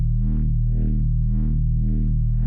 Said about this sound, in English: I really liked his Reese bass that we have here, the wobble bass